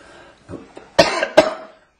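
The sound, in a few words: cough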